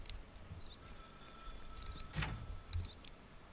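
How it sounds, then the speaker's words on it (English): Telephone ringing in the video game Contraband Police, a steady electronic ring running through the whole stretch at moderate level, with faint background noise and a couple of soft thumps. "I ain't answering that phone!"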